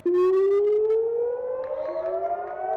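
A civil defense siren wails steadily and loudly during a public warning drill in Bahrain, its pitch slowly rising over the whole stretch, with no voices.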